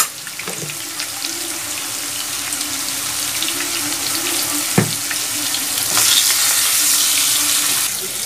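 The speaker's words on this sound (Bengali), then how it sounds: "আলুটা একটু ভালো করে ভেজে নেব, 1 মিনিটের মতন হাই ফ্লেমে আমি ভেজে নেব।" Potatoes fry on high flame in a pan with a little salt and turmeric, a loud, continuous close sizzle with a brief clatter midway, no voices, while cooking a Bengali dish.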